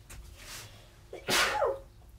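One loud, close sneeze bursts out after a brief intake of breath in a quiet workshop, sounding alone.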